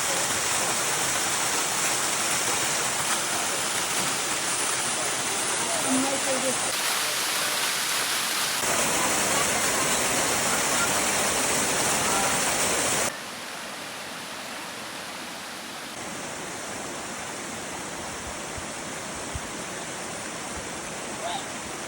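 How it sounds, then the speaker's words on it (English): Steady roar of a waterfall beside a hiking trail, a broad unbroken rushing wash that stays loud and close throughout, dipping slightly partway as the listening position shifts, with no talk over it. "This waterfall is well worth the trip."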